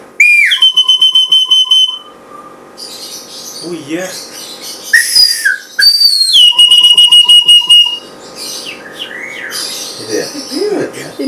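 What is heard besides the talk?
whistle device used to communicate with a myna bird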